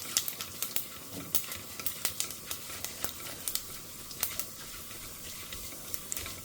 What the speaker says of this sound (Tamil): நெய் சுட்ட கையோட கடுகு, உளுத்தம்பருப்பு, கருவேப்பிலை, பச்சை மிளகாய் எல்லாம் போட்டு தாளிக்கணும்.